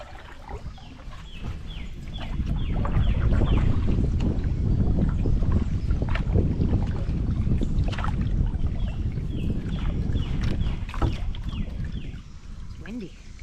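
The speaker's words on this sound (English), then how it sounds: "It's windy." Gusty wind buffets the microphone with a loud, rumbling roar that swells and holds, while water sloshes faintly and voices break in now and then.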